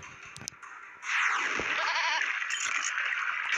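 A goat in a video game lets out a wavering bleat partway through, over a loud, hissing, glitchy electronic wash, with no talk.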